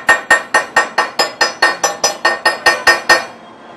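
Heated metal is hammered during forge welding, about thirteen sharp ringing blows at a steady, quick rhythm, loud and near, followed by a fading metallic ring.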